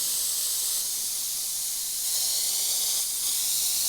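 An Iwata HP.TH airbrush sprays at about 40 psi with its MAC valve wound fully open, giving a steady, close, bright hiss of air and paint that swells slightly in short pulses.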